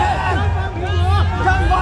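A crowd roars and cheers at a Huawei product launch event, a dense wash of many voices and whoops filling the hall continuously.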